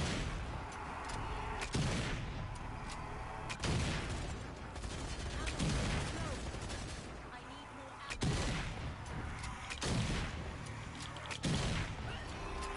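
Gunshots in Zombie Army 4: Dead War land as a series of separate heavy rifle reports spaced a second or two apart, each loud and booming over a low ambient background, with a voice talking faintly between them.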